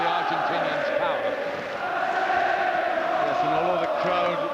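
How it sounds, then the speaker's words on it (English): A boxing crowd at the Scott Harrison vs Julio Pablo Chacon fight chants and sings in a sustained, droning roar that fills the arena, with a commentator talking over it. "the crowd will drive him on with their chants and their songs"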